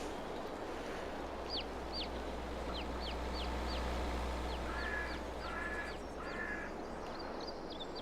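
Chickens in the farming game Farming Simulator 22 give short, scattered clucks and chirps over a steady low ambient hum. The calls are moderately close, spaced irregularly, and rise into a brief cluster of quicker calls near the end.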